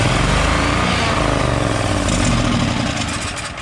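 A Generac XG 10000E portable generator with its choke held on cranks and sputters, a loud, close, rough engine roar that runs steadily before easing off near the end.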